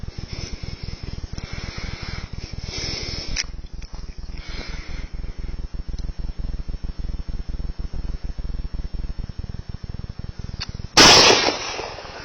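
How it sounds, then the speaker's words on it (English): A single sharp rifle shot, fired at night through a rifle fitted with a night vision scope, cracks loudly near the end after a long stretch of steady hiss and faint ticking. "I'm going to hand the gun to Connor to have a shot."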